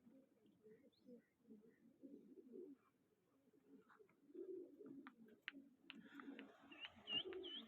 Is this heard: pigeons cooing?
yes